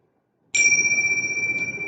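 A single meditation bell struck once gives a clear, pure ring that lingers steadily with a slow shimmering pulse, after a moment of silence.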